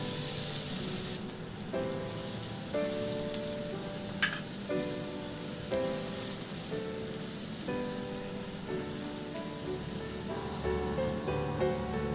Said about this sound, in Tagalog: Maglagay muna tayo ng mantika sa kawali at igisa na yung bawang.